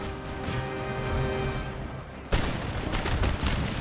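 A loud booming cannon blast cuts in midway over a busy Empire: Total War battle soundscape of tones and clatter, followed by more crackling explosive bursts.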